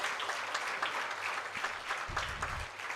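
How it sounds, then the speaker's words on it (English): Audience applauding toppers at a Building Bharat 2047 event attended by Governor RN Ravi, a sustained, even wash of many hands clapping in a large hall, moderately distant and continuous throughout. "Can we have a huge round of applause to all these toppers?"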